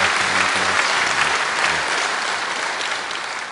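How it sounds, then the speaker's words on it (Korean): Warm applause from a church congregation at a Sunday service, welcoming first-time worshippers: dense, sustained clapping from many hands, loud and close, slowly tapering over a few seconds. "뜨거운 박수로 환영하겠습니다"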